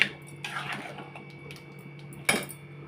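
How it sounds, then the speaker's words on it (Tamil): Utensil stirring food in a pan, soft scraping and a few sharp metallic clinks, close and fairly quiet. "அப்படியே கிண்டிகிட்டே இருந்தால் போதும்."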